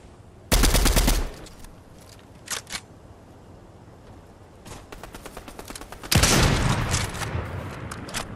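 Rapid bursts of automatic gunfire in Fortnite, two loud volleys with scattered quieter shots between, crisp and close, no speech.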